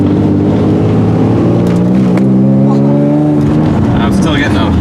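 A Nissan 350Z with a GOD SNOW catback exhaust climbs a hill, its engine droning loud and close with a rising, then settling tone, and a voice is heard over the engine.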